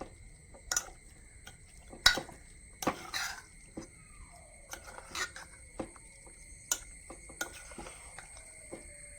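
Avial, a mixed vegetable curry, being gently stirred along one side of a pot: scattered utensil clicks and light scrapes over a quiet kitchen with a faint steady hum, no voices.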